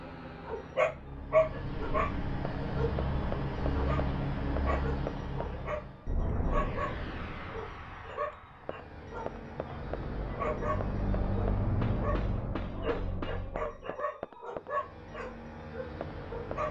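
Dogs bark and yip in a video game setting, Dino Crisis, with repeated short barks scattered through a busy, fairly loud mix of game sound and music.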